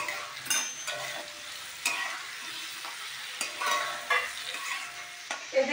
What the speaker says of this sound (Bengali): এদিকে ডালিয়া করবো বলে সমস্ত সবজিগুলো ভাজতে দিয়ে দিয়েছি তেলে